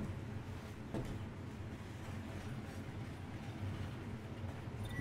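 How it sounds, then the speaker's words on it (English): Train pulling into a station in the video game Final Fantasy XV: a steady, dense low rumble with faint rail clatter runs throughout at moderate loudness, with no talking over it. "Walk around until the train arrives."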